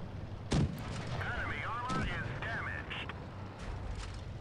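Tank cannon shots in the mobile game World of Tanks Blitz, with a loud, sharp blast near the start and more shots and impacts following under game sounds and background talk.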